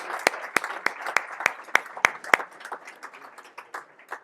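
Sparse applause from a small audience at a coding bootcamp demo day, individual sharp claps ringing out in an uneven rhythm, nearby, then thinning and fading toward the end.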